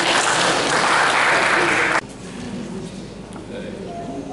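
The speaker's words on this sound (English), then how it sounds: "Let's clap for Noni." An audience claps loudly and together for about two seconds at a school parents' meeting, then the applause stops abruptly and the room goes quiet.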